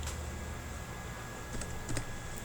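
Keystrokes on a computer keyboard while entering a coin name on the Binance crypto exchange: sparse, light clicks, mostly faint, with a small cluster near the end, over a low hum and no speech.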